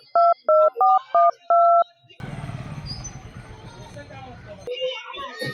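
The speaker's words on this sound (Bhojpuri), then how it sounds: "फोन लगाई।" A phone keypad beeps five quick times in a row as a number is dialed, followed by a steady hiss of line noise, with voices talking in the background.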